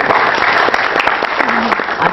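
Short burst of lively audience clapping at a Marathi poetry recital, close and loud, with a few voices murmuring under it.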